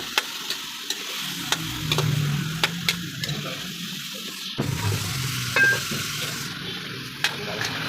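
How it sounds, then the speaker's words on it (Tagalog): Garlic sizzles and fries in hot oil with a few sharp clinks of a utensil stirring the pan, fairly close, with no one speaking. "Yan ang panggisa natin dito sa ating bawang"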